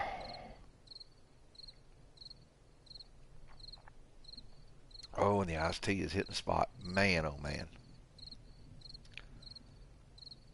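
Crickets chirp in 7 Days to Die on PS4, a steady faint rhythmic trill running throughout, with someone talking over the middle of it.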